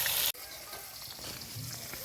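Snakehead fish frying in hot oil for a picnic meal; a loud burst of sizzle cuts off abruptly, then a quieter, continuous crackling fry carries on close by.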